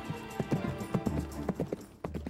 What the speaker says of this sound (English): At a steady canter, a horse can travel at around 15 miles per hour.